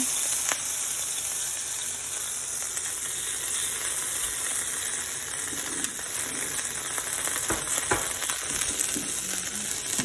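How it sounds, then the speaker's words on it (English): Garlic and ginger stir-frying in a hot wok, a continuous bright sizzle with scattered clinks and scrapes of stirring throughout, no voices. "you're gonna want to stir fry this for about 30 seconds"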